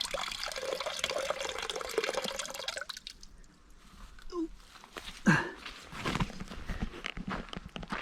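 Water trickles and splashes steadily as a bottle fills from a trough's flowing inlet, with a brief louder splash midway and faint movement around it.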